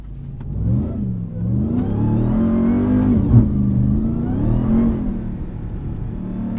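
A 2021 Ram 1500 TRX pickup truck's engine revs hard off-road on sand dunes. The engine roar is loud and close, and its pitch rises and falls continuously as the truck moves through the gears.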